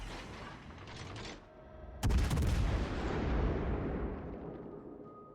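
Ship guns firing in World of Warships Legends, one heavy booming salvo with a long rumbling decay, preceded by faint distant firing and steady background hum.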